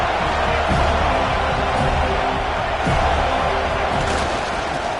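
Dense football stadium crowd noise at an SMU versus FSU game during a third-and-goal defensive stand, a steady loud roar of many voices with scattered shouts and cheers throughout.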